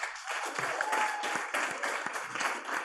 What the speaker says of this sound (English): one final round of applause for our last team who's pitching tonight